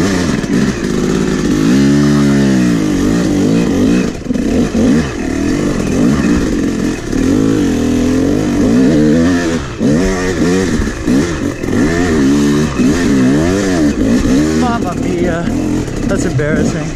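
A hard enduro dirt bike engine revs repeatedly on a sloppy training lap, rising and falling pitch sweeps, loud and near, with people talking over it.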